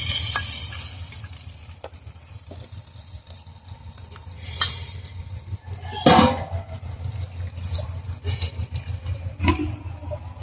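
Fish belly pieces fry in a pan for a Bengali recipe, a steady close sizzle broken by scraping stirs and sharp clinks of a utensil against the pan.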